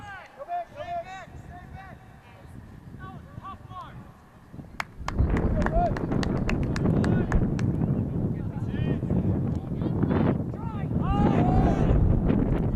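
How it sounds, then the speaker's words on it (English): Strong wind buffets the microphone during an outdoor high school ultimate frisbee game, starting as moderate rumbling gusts and then roaring loud and steady, with a commentator's voice and distant shouts heard beneath the noise. "Wind just picked up big time."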